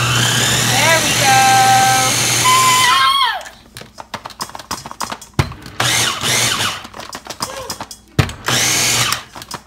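A blender whirs steadily through chocolate chip cookie dough for about three seconds, then breaks into choppy, stuttering pulses as the load shifts, loud and close with a voice briefly heard.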